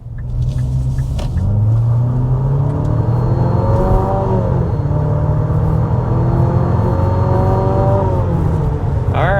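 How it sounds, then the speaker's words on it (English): A 2026 Nissan Murano with a 2-liter turbo four-cylinder accelerating hard, its engine droning loud and steady and climbing in pitch through the gears with brief shift dips, heard alone with no talking. "we need to go ahead and start with a hard acceleration"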